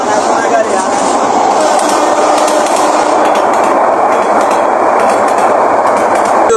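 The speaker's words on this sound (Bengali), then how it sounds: "যথাসময়ে ট্রেনটি কানাবাড়িতে প্রবেশ করেছে" Narsingdi commuter train pulling into Khanabari railway station, a loud continuous rumble of the rolling cars with faint rail clatter throughout, close by and steady.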